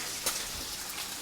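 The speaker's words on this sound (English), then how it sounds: "As you can hear, our bacon is sizzling away just nicely." Bacon sizzling in a frying pan: a steady, dense crackling hiss, close and even, with no talk.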